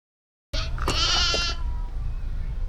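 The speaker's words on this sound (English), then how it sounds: "Oh my god, baby lambs." Baby lambs bleating out in the Yorkshire Dales, with a clear, close, wavering bleat followed by fainter calls over steady outdoor background noise.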